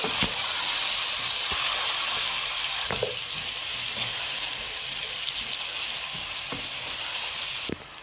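Chopped onions and green chilies frying in a pot for beef biryani, stirred steadily, giving a continuous loud sizzle with faint scraping clicks from the spoon, no voices.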